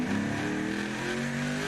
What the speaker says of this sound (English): You could hear that car